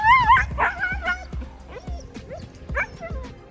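A 12-week-old German Shepherd puppy close by gives repeated high yips, whines and short barks in an irregular run while busily searching and hunting.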